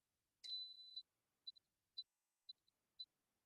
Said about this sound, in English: there's my 3 beeps to indicate that it is now begun this new process